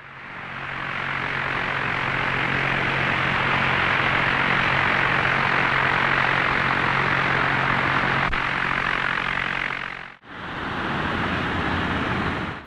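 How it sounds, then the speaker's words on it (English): A Convair XFY-1 Pogo propjet aircraft on a vertical takeoff or landing at Moffett Field, California, gives a loud, continuous engine and propeller roar that holds steady, cuts briefly near the end, then resumes. "Takeoff was easier to accomplish than vertical landing, with the pilot needing to look back over his shoulder as the cruciform propjet neared the ground."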